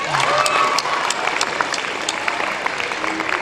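Close, full audience applause at a 2006 symposium, a dense wash of clapping with a few sharper individual claps standing out and a brief voice near the start.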